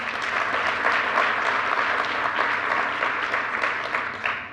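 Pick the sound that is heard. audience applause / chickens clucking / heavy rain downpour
audience applause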